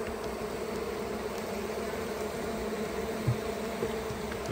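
Honey bees buzz inside a beehive after smoking in early spring. A dense, continuous hum of many insects stays close and steady, with no voices over it.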